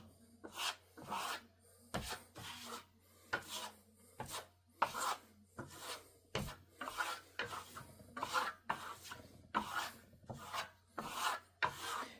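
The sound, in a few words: applying FEIDAL matte Venetian plaster with short trowel strokes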